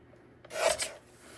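A quarter inch is trimmed off a sheet of scrapbook paper in a single quick, close rasping cut lasting about half a second, with quiet before and after.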